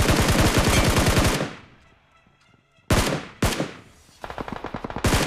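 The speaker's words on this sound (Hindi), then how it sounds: "एक मार और फायर किया अपनी स्कार एल के जादू से।" A SCAR-L rifle fires in the BGMI mobile shooter. A rapid automatic burst rings out and fades into a lull, then two sharp single shots, then another quick run of rapid fire, loud and near.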